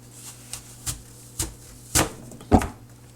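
Apples for an apple pie are chopped by knife on a board, five or six crisp, separate thuds at uneven intervals that grow louder toward the end, close by with no voices.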